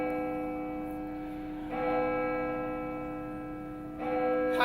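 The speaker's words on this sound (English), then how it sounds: "The bell invites me." A bell tolls during a high school stage performance of Macbeth, sounding two resonant strokes a couple of seconds apart, each ringing on with a long, slowly fading hum at moderate volume.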